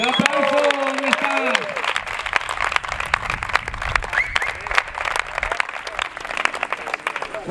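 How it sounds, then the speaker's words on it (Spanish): Crowd applause and cheering at the final of a CrossFit competition, dense irregular clapping throughout, with a loud voice speaking over the start. "¡Un aplauso!"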